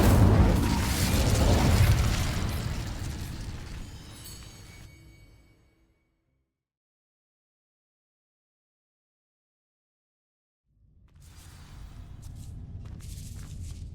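An Incendio fire spell sets dry vines alight in Hogwarts Legacy, opening with a loud whooshing burst of flame that roars and crackles, fades to silence, then gives way to a softer low rumble of burning.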